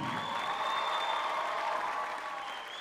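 Sustained applause from a concert audience, dense and steady for the whole stretch, with a faint crowd murmur blended in and a slight easing toward the end.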